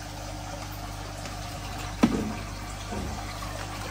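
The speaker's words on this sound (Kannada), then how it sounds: "ಈಗ ಫಿಲ್ ಮಾಡ್ತಿದ್ದಾರೆ ನೀರು" Water filling into a container, with a brief splash near the middle over a steady low background hiss, and no voices.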